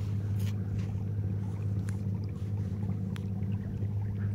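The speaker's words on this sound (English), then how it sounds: "good thing that I have my motor on my kayak" Motorized kayak on a lake pushing against the current, its small motor giving a steady, loud low hum with faint water noise, continuous and alone without talk.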